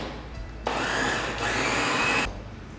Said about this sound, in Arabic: وغادي نطحنوا في خلاط كهربائي مزيان حتى يولي بحال الكوري